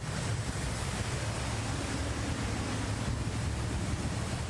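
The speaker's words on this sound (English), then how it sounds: "You can hear the intensity of the storm from this video shot out our front door." Steady roaring wind and rushing noise, loud and unbroken throughout, with a deep rumble underneath and no voices.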